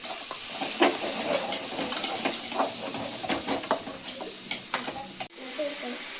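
Finely chopped onions and green chilies frying in a pan for a mushroom stir-fry, with a steady close sizzle and the scrape of stirring throughout, then a sudden drop in level near the end.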